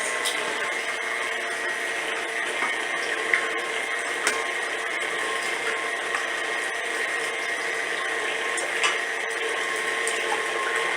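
An electric mixer runs steadily, beating bread batter with two eggs added, its motor whirring at a constant level throughout with no talking.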